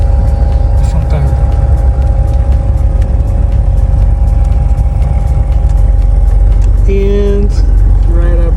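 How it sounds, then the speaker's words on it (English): A Hummer H1 Wagon idles and rolls slowly while its front tire is inflated by the onboard system, a steady low engine rumble with a constant tonal hum and brief mechanical squeals near the end. "I'm moving the car but I'm still inflating the front tire"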